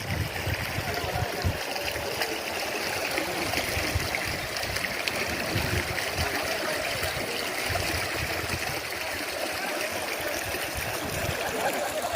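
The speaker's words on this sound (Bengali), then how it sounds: "কি সুন্দর নদীর স্রোত।" Continuous rushing of a shallow river beside Gorumara National Park in North Bengal, an even broad wash of flowing water that holds steady throughout without pause.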